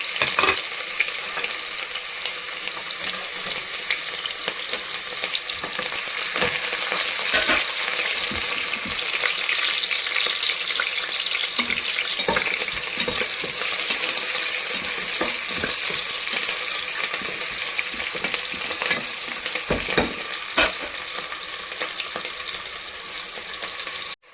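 Finely chopped onion with cinnamon and cloves frying in oil inside an open pressure cooker, a sustained crackling sizzle with intermittent stirring scrapes and clinks over about twenty seconds, no voices.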